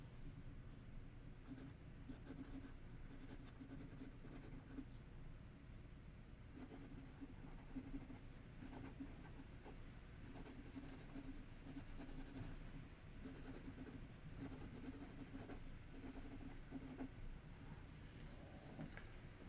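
A fountain pen with black cartridge ink scratches softly across paper in close, quiet strokes, with short pauses between bursts of writing.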